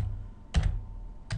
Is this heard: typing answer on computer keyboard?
yes